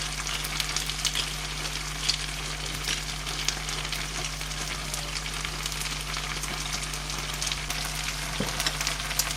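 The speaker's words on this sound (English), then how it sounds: "our potatoes have been cooking for a few more minutes" Potatoes fry in a pan after a seasoning of salt and pepper, a steady, soft sizzle with faint crackles running throughout and no voices.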